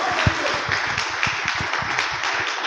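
A church congregation clapping during an evening service, a continuous spread of many hands with sharp individual claps standing out, moderately loud, with organ-like tones faintly underneath.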